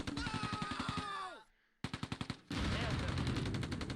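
Machine gun fire in the World War II tactics game Close Combat II: rapid, loud rhythmic bursts from close by, a short pause, then several more bursts and a steady roar of sustained automatic fire.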